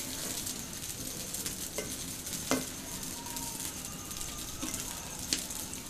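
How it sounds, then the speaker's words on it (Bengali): Potato french fries, cut from raw potatoes and cooled after a first fry, crackle in hot oil during a second fry until crisp, a steady dense sizzle with a few sharper clinks from stirring, no voices. "যেগুলো আগে ভেজেছিলাম সেগুলো এবার ভেজে নিচ্ছি"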